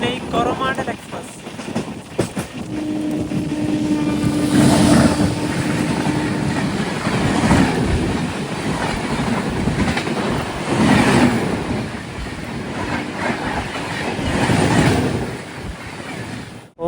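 The Chennai Coromandel Express rolls past at close range, a loud sustained rumble with rhythmic surges of wheel clatter and a steady tone early on; people talk over the passing train.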